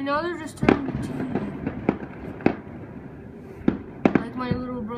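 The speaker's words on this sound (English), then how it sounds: "Here are many fireworks" Fourth of July fireworks bursting in a series of sharp booms and crackles at irregular intervals, some near and loud, with whistling trails and voices talking in the background.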